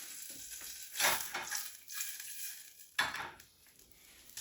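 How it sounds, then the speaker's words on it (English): Butter melting in a pan, a faint soft sizzle with two brief louder bursts of crackle and light stirring or clinking, close and quiet with no voices. "Sounds like my butter is melting well."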